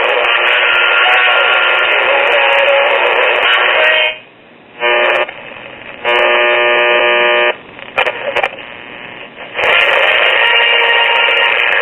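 A 1954 Sears Silvertone subminiature-tube radio squeals and buzzes loudly while being tuned across the dial, a steady harsh tone broken by several short dropouts and shifting whines, with no voices.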